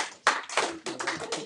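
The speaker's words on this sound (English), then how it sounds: "Everybody give Alyssa a round of applause" Classmates clap for a student in an algebra classroom, a short, uneven burst of several hands clapping close by, with gaps between the clusters of claps.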